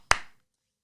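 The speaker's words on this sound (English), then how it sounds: "got to make a little clap" A single sharp hand clap made to sync audio and video in a garage, a close, crisp impact followed by a short quarter-second room decay, then silence.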